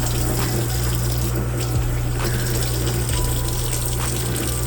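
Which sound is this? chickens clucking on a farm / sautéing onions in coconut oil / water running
water running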